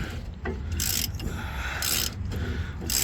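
Wrench working the last U-bolt nut off the leaf spring of a 2004 Ford F-350 Super Duty truck: rapid metallic ratcheting clicks in several bursts, close and fairly loud, with no voices.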